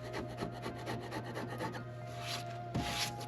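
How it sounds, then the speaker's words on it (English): A thick putty knife shaves hardened body filler on a Porsche 944 widebody, giving a quiet, close rasping scrape in quick repeated strokes with a couple of harsher pushes near the end. "you can take like a thick putty knife, and then you just take and shave a lot of the high spots down"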